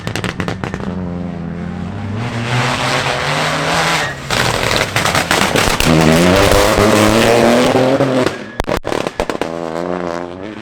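Rally cars racing flat out on the Shackleton stage of a Northern Ireland winter series round, loud engines howling and rising in pitch through gear changes, with sharp crackles and pops from the exhausts, close and continuous for the whole stretch.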